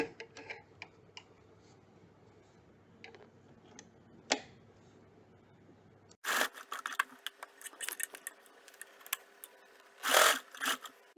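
A home sewing machine stitches an apron belt, with soft light ticking at first, then louder bursts of mechanical clatter and whirring in irregular runs, close up with no voices.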